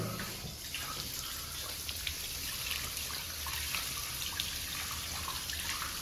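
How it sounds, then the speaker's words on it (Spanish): Water from a garden hose at low pressure runs over a K&N high-flow air filter being rinsed clean, a steady close splashing trickle with small drips, without speech. "simplemente con la presión del chorro de agua"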